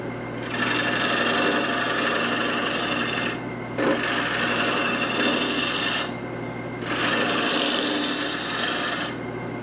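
A turning tool rides the bevel across spinning wood on a lathe while a teapot is shaped. Three long, loud, raspy cutting passes are separated by short pauses, over a steady machine hum.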